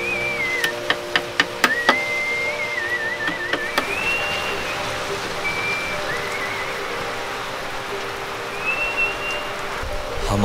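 Steady rain falls in Mawsynram village, Meghalaya, as an even hiss with a few sharp drip clicks early on. Thin, wavering whistle-like tones drift above it, and no one speaks.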